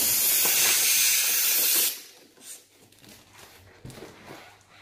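Helium hisses loudly and steadily from a tank nozzle while inflating a lion-shaped foil balloon, then stops sharply, leaving faint rustling and handling noises.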